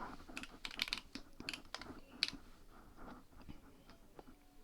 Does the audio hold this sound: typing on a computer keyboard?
yes